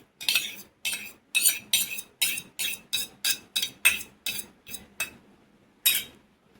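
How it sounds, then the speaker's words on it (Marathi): Powdered sugar and curd being mixed in a bowl for a gulab jamun sponge cake batter, a quick regular series of about a dozen close, crisp scraping clinks of a utensil against the bowl, then a pause and one more. "आता पिठी साखर आणि दही मिक्स करून घ्यायचं।"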